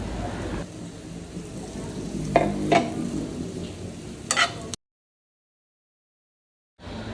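A gram flour mixture roasts in ghee, a low steady sizzle with a few scraping stirs, before the sound cuts to silence.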